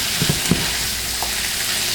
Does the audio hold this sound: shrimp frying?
yes